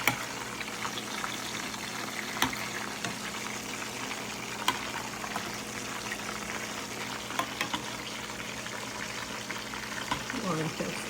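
Continuous crackling sizzle of fish frying in a pan, with occasional sharp pops and faint voices in the background.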